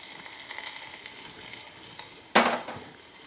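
Garlic cloves hit a teaspoon of hot oil in a pan with a soft steady sizzle, then a sudden louder burst of frying near the end, close and quiet with no talk.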